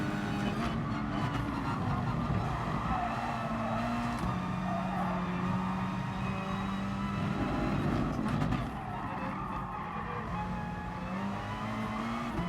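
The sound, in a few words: race car late braking and skidding, GT Sport video game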